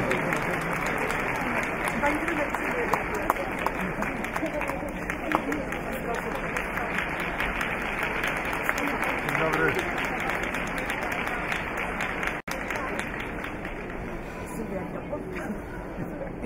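A crowd at a figure skating medal ceremony applauds the first-place finisher, sustained dense clapping blended with arena hubbub, moderately loud and continuous throughout.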